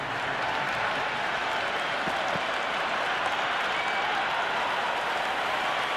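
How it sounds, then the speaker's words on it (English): Dense, steady roar of a stadium crowd in the Cricket 26 video game, a broad wash of cheering and applause that stays loud and unbroken throughout with no clear voice on top. "It's evident and ever so audible that the crowd is at near bursting point at today's play."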